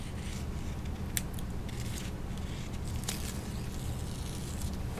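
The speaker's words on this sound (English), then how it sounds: "if you take off the center strip, just a real narrow strip that's in the middle, and peel that back first" A narrow center strip of clear book repair tape is peeled back, giving quiet crackling and a few sharp, brief tearing snaps over a soft steady background.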